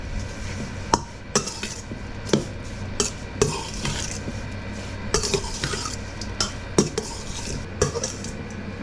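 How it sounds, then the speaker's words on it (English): Wild pork and potatoes with Worcestershire sauce stirred in a pot, a spoon clanking and scraping against metal in irregular knocks over a low background sizzle, close and without talk. "Go ahead and give it a good mix."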